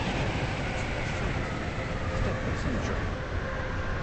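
Express train moving along the track, a steady rumbling roar inside the coach that runs throughout at moderate level with faint clatter.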